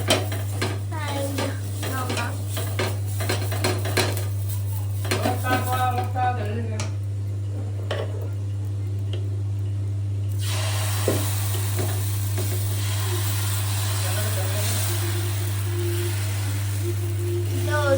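Onions frying in oil in a pan, with sizzling under repeated scraping and stirring clatter of utensil on metal, a constant low hum running beneath, and a brief quieter stretch midway.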